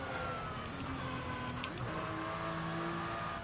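A car driving in a racing simulator game, a steady engine drone with shifting pitch running continuously throughout, fairly loud and alone.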